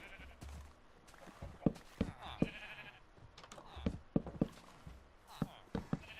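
Sheep in the video game Minecraft bleat in several short, quiet cries scattered among soft clicks and thuds of play, spaced irregularly over a few seconds.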